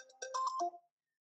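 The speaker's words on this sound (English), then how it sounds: "it's my phone" A mobile phone ringtone chirps in a short melodic burst of bright, rising tones lasting under a second, close and clear with no talking over it, then cuts to silence.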